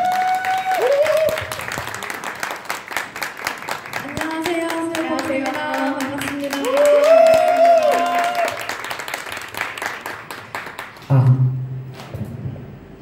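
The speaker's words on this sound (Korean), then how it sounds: "박수 부탁드릴게요" An audience at a K-pop showcase welcoming a female duo claps and cheers while a host's amplified voice and music sound over it, the applause swelling midway before a louder burst near the end.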